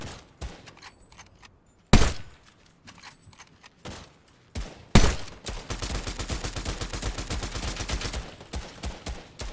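Gunfire in Fortnite Battle Royale, with scattered sharp single shots and two loud blasts followed by a long rapid burst of automatic fire, close and dense.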